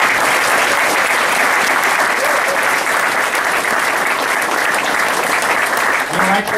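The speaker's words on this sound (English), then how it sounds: "He deserves a big round of applause." A crowd at a Lincoln Day dinner breaks into loud, sustained applause for a conservative leader, thick and even throughout with a few voices mixed in.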